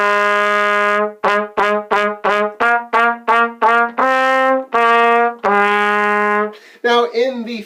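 Trumpet plays a simple tune of sustained notes and quick repeated short notes starting on D, clear and close, with a bright brassy tone and no talk.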